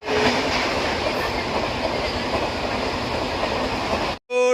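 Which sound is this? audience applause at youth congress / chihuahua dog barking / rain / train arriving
train arriving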